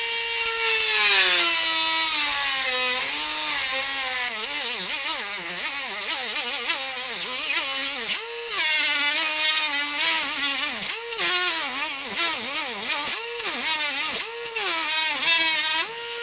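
A power tool cuts down the rotor shaft of a budget hexacopter, giving a loud, continuous whine whose pitch wavers and bends, broken by a few brief dropouts.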